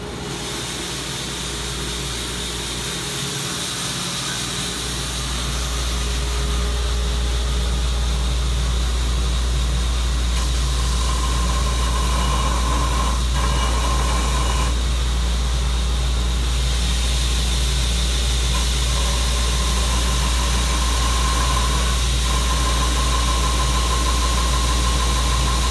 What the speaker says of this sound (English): I'm going to turn the grinder on.